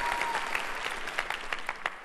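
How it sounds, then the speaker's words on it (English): Congregation clapping during a church service, a short burst of applause from a crowd with a few sharper individual claps near the end. "Come on, give God a clap if you feel that"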